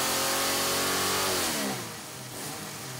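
A Jeep stroker engine fitted with a large 1 7/8 inch stainless header roars on a dyno, holding a loud, high rev before the pitch drops away as it comes off throttle.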